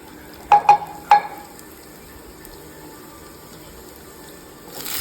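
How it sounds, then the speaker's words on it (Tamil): Mustard seeds hit hot oil in a pan, giving three quick sharp pops within the first second, then a faint steady sizzle fading into near quiet. "பேனில் எண்ணெய் ஊற்றிக்கோங்க வந்துருச்சு கொஞ்சம் கடுகு போடுறோம்"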